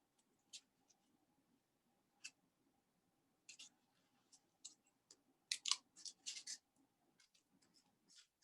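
Scissors snip through yarn while cutting pom poms, a few quiet, scattered cuts that cluster into a quicker run of snips toward the end, with no talking.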